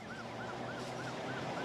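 An ambulance siren wails, rising and falling in a steady repeating cycle, heard faintly at a distance over a constant low rumble.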